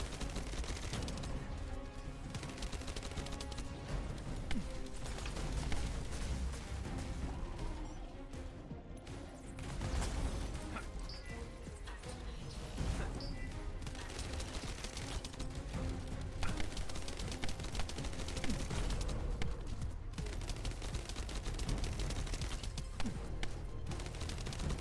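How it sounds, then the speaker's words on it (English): Assault turret firing in the shooter game The First Descendant: a dense, continuous barrage of loud gunfire that rattles on without pause for the whole stretch, with crashing impacts mixed in. "Assault turret activated."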